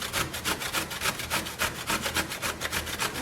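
Zucchini is grated by hand on the fine side of a box grater, giving quick, regular rasping strokes, about four per second, close and steady with no talk.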